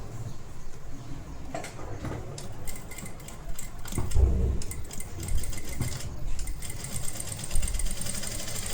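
A sewing machine stitching a blouse collar runs close by with a fast rhythmic clatter of the needle, speeding and slowing in short bursts over a low motor hum.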